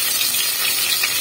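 Garlic and ginger frying in hot oil in a cooker pan while duck gravy is being prepared, giving a steady, loud hiss of sizzling that runs unbroken through the whole short moment with no talking.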